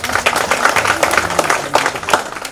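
An audience claps at a school reunion for a 2005–2006 SSC batch, a brief burst of steady, fairly loud applause.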